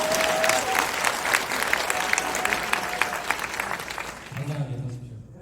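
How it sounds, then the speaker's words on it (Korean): Loud, sustained clapping from a seminar audience fills the room, a dense crackle of many hands that fades toward the end as a voice begins speaking. "응원의 박수를 한번 크게 하고"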